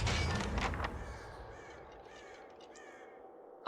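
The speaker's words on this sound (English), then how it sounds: "Ominous crow sounds." Ominous crow caws from the video game Pillars of Eternity, several harsh calls over a low ambient drone, mid-distance and fairly clear, ending in a brief sharp sound.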